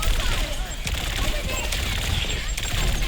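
Weapon fire in an Overwatch 2 match, a steady stream of rapid shots and mechanical clatter under a busy game mix, with a voice speaking over it.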